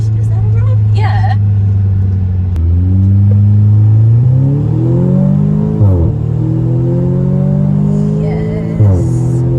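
An Audi S3 8V accelerates on a test drive, its engine rumbling and climbing steadily through repeated rising revs with gear-change dips, loud and close from inside the car, with people talking over it.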